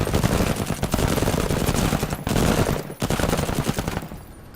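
Dense, continuous automatic gunfire from the space tactics video game Menace, rapid bursts overlapping at steady loudness with two short gaps, no voices.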